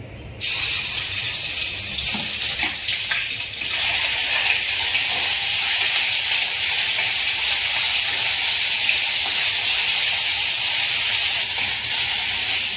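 Ginger and garlic sizzle in hot oil in a kadai, a steady, loud, broadband hiss that holds evenly throughout without pause.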